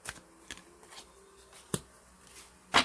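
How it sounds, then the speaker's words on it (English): A deck of tarot cards is shuffled by hand, giving faint, scattered papery clicks and a couple of sharper snaps of cards against each other in a quiet room. "And I'm shuffling."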